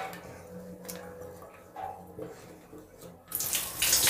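A sink tap, just cleared of hair and dust that had blocked the flow, runs quietly at first and then gushes into a loud, hissing stream near the end, close by.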